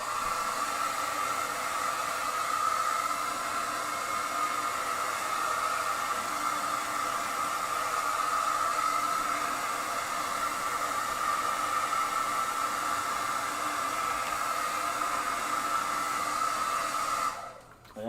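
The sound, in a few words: blow dryer drying a mixed media collage page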